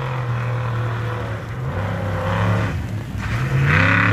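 Off-road race buggies at the 2019 Pines off-road race roar past in the rain, engines droning and revving loudly, one rising whine following another as they splash through.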